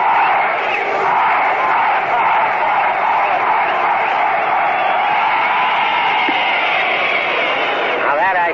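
Bleacher crowd at the Polo Grounds during Game 5 of the 1937 World Series, Yankees at Giants, a dense sustained roar of cheering and yelling from many voices, loud and continuous throughout.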